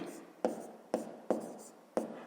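Pen or chalk strokes write numbers by hand, four or five short, close scratchy strokes spaced about half a second apart in a quiet room.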